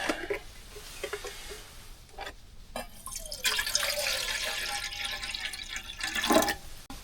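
Water is poured into a pot on a camping cooker inside a van, a trickling, splashing flow that builds into a steady pour and lasts several seconds at close range.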